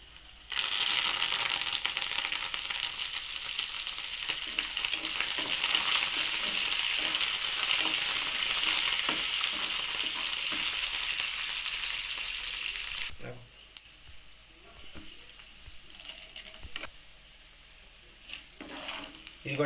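Curry leaves hit hot tempering oil for a tomato and coriander roti pachadi, producing a loud, crackling sizzle that holds for several seconds before easing into quieter popping with scattered stirring clicks.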